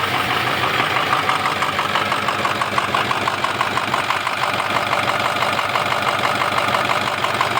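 A 2000 or 2005 Ford F-250 4x4 pickup engine idles roughly, a steady close mechanical rumble with an uneven, knocking pulse and no voices over it.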